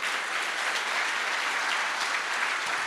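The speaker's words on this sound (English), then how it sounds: "So one final round of applause for the speakers, the students, the attendees, Andy, everyone." Sustained, dense applause from a conference audience clapping for speakers, students and attendees at the closing of the OBTS v6.0 event in Marbella, Spain, steady and evenly loud throughout with no talk.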